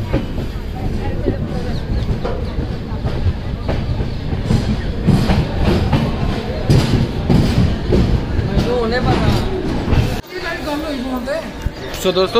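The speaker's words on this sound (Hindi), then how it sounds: "हमारी ट्रेन आ चुकी है अपने 6 स्टॉपेज पे, जो अपना पठानकोट कैंट" Jammu Mail express train pulling into Pathankot Cantt station, a steady rumbling clatter of rail cars with crowd chatter around, while someone talks over it close by.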